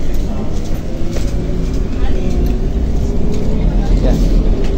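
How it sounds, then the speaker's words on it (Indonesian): Interior of an A3 airport bus bound for Don Mueang, Bangkok: a steady, loud low engine and road rumble fills the cabin throughout, with people talking over it. "bus A3 yang ke Bandara Don Muang"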